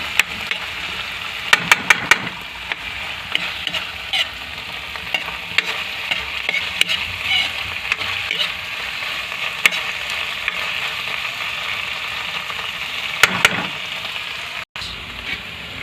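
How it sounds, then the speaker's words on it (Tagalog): Food fries in a pan as it is stirred until dry, a steady loud sizzle running throughout with scattered scraping clinks and a few sharper bursts of stirring, near and with no talk. "Halo-haloy lang natin guys hanggang matuyo"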